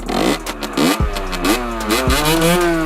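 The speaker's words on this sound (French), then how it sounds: "j'accélère plusieurs fois. Pour que la moto elle prenne vraiment les tours" A small 50cc motorcycle engine revs repeatedly, its pitch climbing and dropping in several quick bursts, loud and close.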